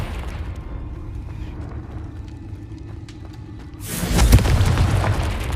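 A Confringo blasting spell in Hogwarts Legacy, a sudden loud explosion with deep booming rumble that breaks in after quiet magical ambience and rolls on to the end.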